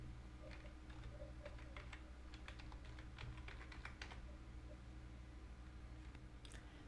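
Quiet, close clicking of a computer keyboard being typed on in short irregular bursts over a low background hum.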